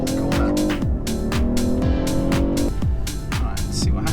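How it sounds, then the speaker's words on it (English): A 2008 Audi TTS launching hard and accelerating toward 60, its engine note climbing through repeated rising sweeps with sharp drops at each gear change, loud and close from inside the car. "Sort of launch, and we get to 60 before the corner."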